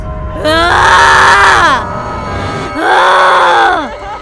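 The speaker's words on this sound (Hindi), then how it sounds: "पेड़ के जल्ला पे चुड़ैलन और प्रेतन के चिल्लाए के आवाज आवे लागल" Eerie wailing screams of witches and ghosts rise from a burning banyan tree in a horror story, two long drawn-out howls with falling pitch, loud and close.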